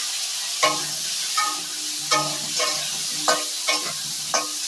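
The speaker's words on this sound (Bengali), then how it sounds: "আলুটা ভেজে নিচ্ছি" Potato pieces fry in a pan with a steady sizzle, broken by about six sharp stirring scrapes at a regular pace, close and moderately loud.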